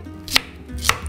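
Kitchen knife dicing tomatoes on a cutting board, two crisp chops about half a second apart, close and clear with quiet room tone between.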